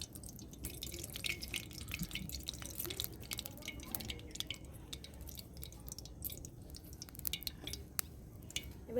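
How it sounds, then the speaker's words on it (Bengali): Mustard oil is poured into a hot wok, giving a steady, close crackling sizzle with scattered sharp pops and no voices. "এবার আমি সরষের তেল দিয়ে দিচ্ছি কড়াইতে"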